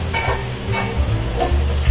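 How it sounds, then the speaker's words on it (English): Food sautés and sizzles in a pan for bacon carbonara with ground pepper, a steady close frying hiss broken by stirring scrapes, with no voices. "And then, saute."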